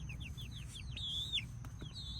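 Cinnamon Queen chickens, young birds kept in a small makeshift nursery, give a quick run of soft high peeps and chirps followed by a longer trilling call, over a low background hum.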